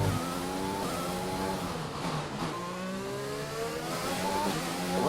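F1 race car engine in the F1 2020 video game, racing at the Singapore round, with a sustained whining drone whose pitch climbs through the gears and drops sharply at an abrupt mid-clip gear shift, then rises again, alone without talk.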